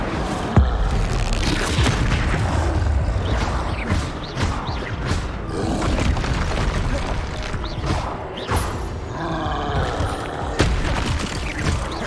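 Incendio fire spell blasts mixed with Expelliarmus casts in Hogwarts Legacy, a loud continuous barrage of booms, whooshing bursts and crashing impacts with deep rumble, sustained throughout with brief sharp hits.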